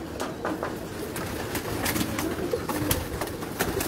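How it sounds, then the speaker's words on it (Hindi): A loft of breeding pigeons coos continuously nearby in a dense, overlapping murmur of many birds, with no talking. "देख सकते हैं जो अक्सरियत में कबूतर हैं"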